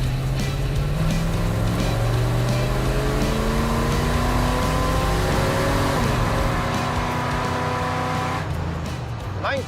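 A Ford truck launches in a drag race and accelerates hard, its engine roaring loud and close as the pitch climbs through several gear changes over a continuous rumble, with a voice faintly underneath.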